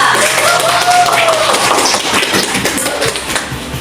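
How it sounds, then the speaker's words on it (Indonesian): Students in a high school classroom clap for a classmate, a brief burst of close, uneven hand claps that thins out within a few seconds, mixed with room chatter. "Kita berikan tepuk tangan untuk teman kita."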